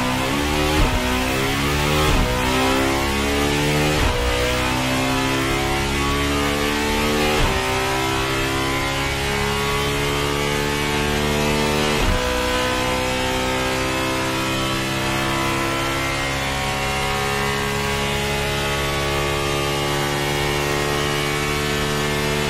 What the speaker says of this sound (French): ses 4 moteurs peuvent la propulser jusqu'à 445 km/h